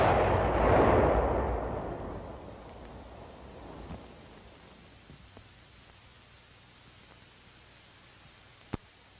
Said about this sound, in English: Then the charge is fired.